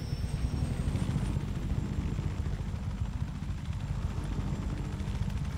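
Helicopter in the Just Cause 3 video game, a heavy low rotor thump and engine drone held at a steady level with a faint high whine above, no talk over it.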